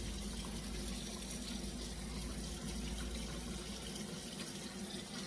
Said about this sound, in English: We're going to wash these pieces and then put them back.